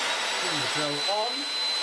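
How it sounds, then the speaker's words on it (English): An electric drill spins a clamped metal part for hand-machining with a file while building a hybrid rocket, a loud steady whirring hum with a high whine, continuous and close, with a brief voice underneath. "turn the drill on,"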